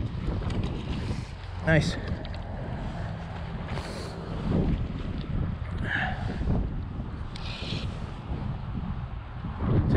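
Steady wind gusting across an open winter river while fly fishing, a constant broadband rush with buffeting on the microphone throughout, plus brief water splashing and someone speaking a word.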